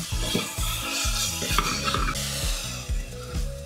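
Dal khichdi ingredients fry and are stirred in a pan, a bright sizzle with scraping and clinking of a utensil, over a rhythmic, pulsing low music beat.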